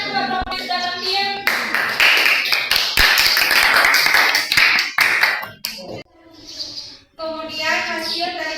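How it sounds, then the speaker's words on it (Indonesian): A classroom group applauds a team of students who have just performed, with dense, steady clapping and tapping that swells, dips briefly, then resumes, children's voices mixed in. "tepuk tangan buat kelompok yang sudah tampil"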